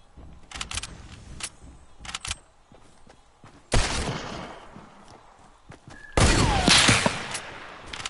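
Sniper gunfire in Fortnite sounds as several sharp cracks and loud bursts, some close and booming with trailing echoes, scattered among quieter clicks and rustles, with no voices.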